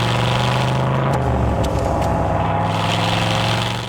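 1967 Chevrolet Corvette engine running while driving, a steady low rumble that shifts as the car changes gear partway through, moderately loud and close.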